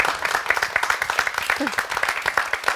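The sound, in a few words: audience applause at live show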